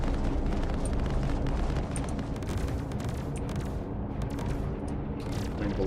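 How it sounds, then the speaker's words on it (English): Torpedoes blow up against front turrets in a space combat video game, a continuous barrage of deep rumbling blasts and booms with sharp crackling bursts layered over them. "That's what happens when the torpedoes blow up on when you fire them."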